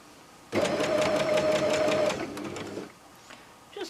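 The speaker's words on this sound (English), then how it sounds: "Just do a few stitches at a time." A sewing machine stitches a messenger style shoulder bag in one short burst of rapid, close mechanical whirring lasting about two seconds, then stops, leaving faint handling sounds.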